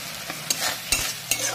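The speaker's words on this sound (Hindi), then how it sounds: "इसे हम अच्छी तरह से मिलाएंगे।" Chilli, tomato and soy sauces are stirred together in a hot pan, a soft continuous sizzle punctuated by three quick spatula scrapes, close and clear, with nobody speaking.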